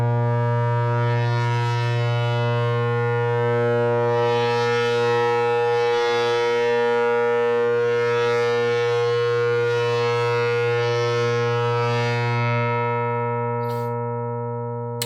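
A Mutable Instruments Elements synth voice set to a bowed string, holding one steady droning pitch with rich layered harmonics and a slowly shifting breathy texture, loud and alone, fading slightly at the end.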